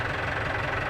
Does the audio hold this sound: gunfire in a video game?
no